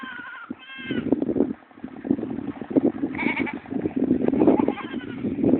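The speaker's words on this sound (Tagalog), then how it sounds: "Sa lugar na to, pinapastol madalas ang mga kambing." Several goats bleat repeatedly outdoors, their wavering cries overlapping against steady wind-like background noise, with one higher, clearer bleat standing out midway.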